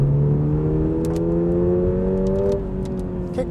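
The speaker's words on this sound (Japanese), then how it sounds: "BRZ 車内の音もですね結構いい音が鳴るんですよ" Inside a new Subaru BRZ held in second gear, the engine revs up under throttle, a loud, steady, close droning tone that climbs gradually, then eases slightly near the end, with small clicks over it and no talk.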